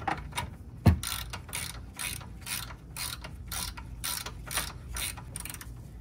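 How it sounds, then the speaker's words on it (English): A ratchet tightens a lower control arm bolt on a BMW E39 5 Series, giving quick repeated metallic clicking in steady bursts, close and distinct, with one heavier knock near the start. "Now we're gonna tighten this bolt up, but we're not gonna tighten it up all the way."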